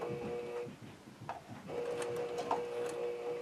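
A sewing machine stitches a pieced curve seam, its steady whirring hum running, pausing briefly, then resuming, with small clicks and rustles of fabric nearby; quiet and close, with no voices.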